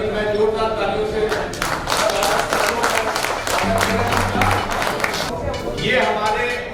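An audience at a fertilizer company's product launch event claps to welcome a guest, loud bursts of applause mixed with someone speaking over a microphone and some background music.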